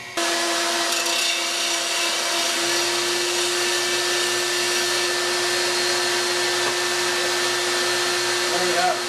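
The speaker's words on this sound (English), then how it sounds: "My disc sander, and I use it because it really works good to get a perfectly flat surface" A disc sander runs continuously, flattening a mount surface during skull mounting work; a steady, loud whirring drone with a constant tone holds throughout, with no breaks and no speech.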